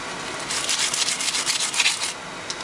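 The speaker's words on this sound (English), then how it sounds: "I think we're using the 60 sand grit." Sanding a steel knife blank for a cleaver by hand with coarse 60 grit sandpaper, rapid rhythmic rasping strokes, close and fairly loud, with no talking.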